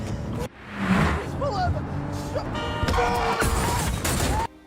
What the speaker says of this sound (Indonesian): Tiba-tiba, mobil yang dibawa Joe menabrak mobil yang sedang melintas